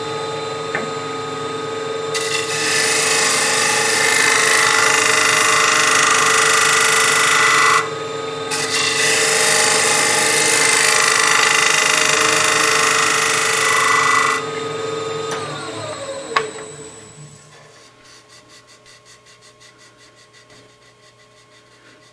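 A wooden bowl spins on a lathe while a tool shear-scrapes it, giving a steady rasping hiss in two long passes with a short break, then the motor hum winds down at the end.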